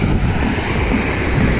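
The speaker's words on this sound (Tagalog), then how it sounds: "Nakakatanggal ng pagod yung sounds ng dagat" Sea waves wash steadily onto a beach at midnight, a loud continuous roar of surf mixed with wind buffeting the microphone.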